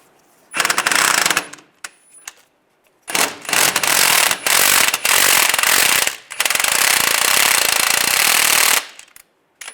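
Impact wrench or ratchet driving a new crank bolt into the crankshaft pulley of a 2007-2013 Chevy Silverado during a timing chain job, loud rattling bursts in several long runs with short pauses between them.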